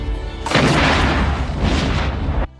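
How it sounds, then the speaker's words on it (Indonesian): A gunshot in a war film about a tribal conflict, as one character shoots another in the head. It comes as a single loud, booming blast that rolls on for about two seconds with no talking. "Nathan menembak kepala Duncan untuk menghentikan penderitaannya"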